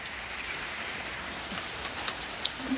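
Steady rain pours outdoors in a rural Thai setting, a soft continuous hiss with a few faint drips and taps near the end and no voices.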